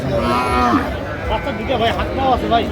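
Sahiwal cattle low repeatedly at a busy livestock market, loud nearby moos with drawn-out tones rising and falling over a few seconds while people talk in the background.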